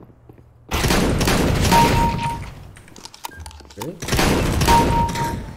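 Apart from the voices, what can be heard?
shotgun gunfire from a video game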